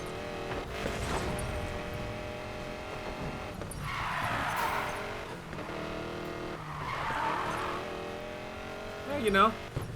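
A car in the Need for Speed Payback racing game drifts, its tires squealing in two long, loud bursts over a steady engine drone.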